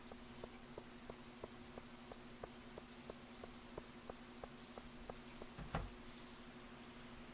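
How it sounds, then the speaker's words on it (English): Rain falls in Stardew Valley, a soft continuous patter under a faint regular ticking pulse, with one brief louder thump near the end. "Apparently this rain is supposed to be completely harmless, just unusual phenomena of nature."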